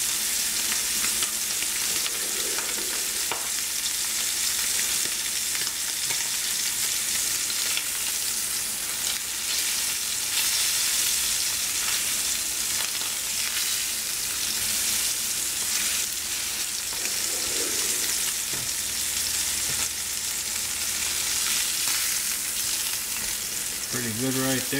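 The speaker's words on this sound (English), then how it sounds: "I'm going to stack those up and we'll do a quick little hold and sear on those." Fat cap of a New York strip steak seared in a hot pan, a loud unbroken sizzle running the whole time with occasional soft shuffles and a light clatter near the end.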